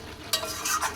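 Chicken curry with papaya being stirred and sautéed in a pan, a short close sizzle with scraping stirring strokes.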